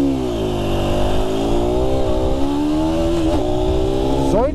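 An Aprilia motorcycle rides on a road, its engine loud and close with a steady droning tone, rising and falling revs, and a sharp throttle blip at the end.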